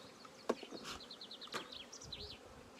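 Honey bees buzz around an opened hive frame during queen-rearing work, a steady moderate hum with intermittent closer buzzes and high chirps from nearby birds outside.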